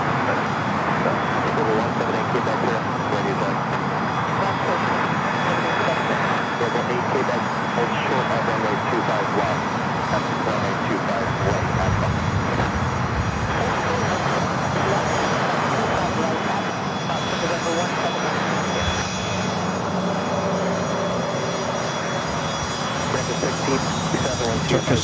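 A Turkish Airlines jet takes off on the north side of LAX, a long, steady engine roar with a low rumble and a thin whine on top, with people talking underneath.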